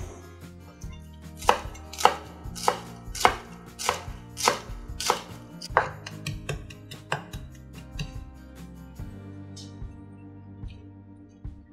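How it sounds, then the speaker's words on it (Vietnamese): A knife mincing shallots and scallion roots chops rapidly on a cutting board in a steady rhythm of crisp taps, slowing and softening toward the end. "Mình sẽ băm nhuyễn hành tím và gốc hành lá."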